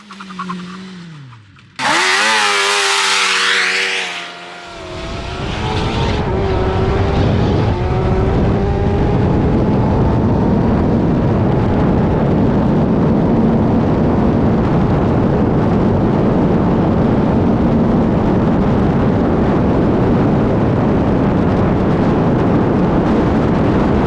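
A rebuilt Suzuki GSX-R750 motorcycle is ridden at speed, a brief sharp rev giving way to a loud, sustained high-speed engine roar with steady wind rush.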